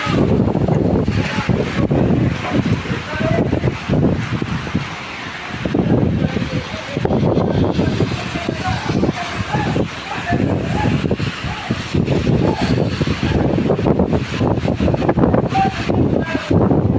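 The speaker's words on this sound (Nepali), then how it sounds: "एकदमै ठुलो पानी परिरहेछ।" Heavy rain driven by strong wind in Saudi Arabia makes a loud, constant rushing roar with gusts buffeting the microphone, while someone talks over it in short bursts.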